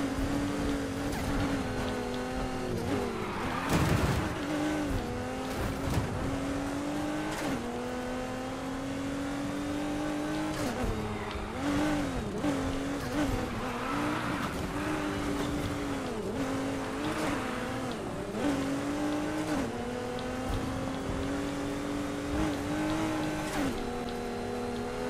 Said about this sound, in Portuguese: o ronco da Ferrari é outro tipo de ronco